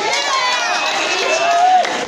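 Audience members at a campus event cheering and shouting, a dense continuous crowd roar with whoops and voices sustained for about two seconds, loud and close.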